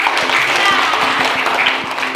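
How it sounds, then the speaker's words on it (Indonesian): An audience claps during a university teacher-training class, a short burst of applause with distinct claps repeating at an even rhythm. "Tepuk tangan."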